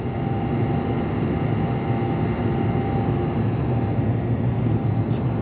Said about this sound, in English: I got a really weird sound on that drone right now.